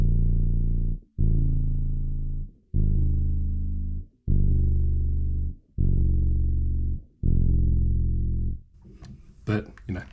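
A bass guitar through a Boss OC2 octave pedal repeats a low B flat about six times, each deep note sustaining and slowly decaying before the next, with a brief voice at the end.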